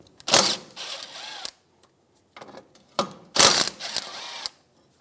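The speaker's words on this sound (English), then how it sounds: "Remove the two 12mm bolts for the brake line bracket." A ratchet on the 12mm brake line bracket bolts of a 2003-2007 Infiniti G35 gives two close, loud bursts of rapid clicking, each with a short pause and a few lighter clicks in between.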